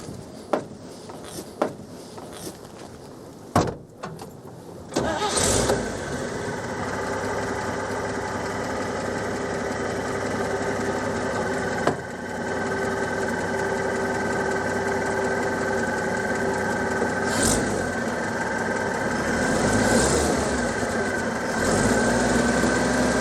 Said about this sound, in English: Yeah, okay, I'm start the engine.